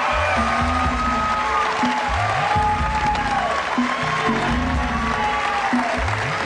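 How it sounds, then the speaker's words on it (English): An audience at the Miss USA 1995 pageant applauds in a sustained wash of clapping, with music playing alongside it. "this crowd obviously thinks Chelsi could be their seventh Miss USA"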